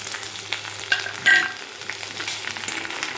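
Ginger and garlic paste hits a hot pan of nearly browned onions, giving a steady close sizzle of frying with a brief louder burst of spluttering midway and faint stirring scrapes throughout.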